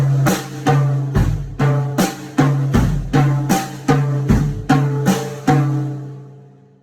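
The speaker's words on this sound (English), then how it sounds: "the hi-hat and the tom beat" A drum beat alternating between hi-hat and toms plays in steady, evenly spaced hits, loud and close, each stroke decaying quickly before the next, with the final hit ringing out into silence.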